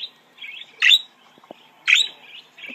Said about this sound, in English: I think that's a happy budgie. A noisy happy budgie.